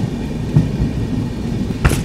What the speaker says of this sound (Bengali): বাইরে মুষলধারে বৃষ্টি হচ্ছে, মুষলধারে বৃষ্টি হচ্ছে।